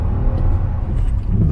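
A Nissan Almera car's engine revs hard on a wet road, a loud, continuous low growl building briefly with no talking.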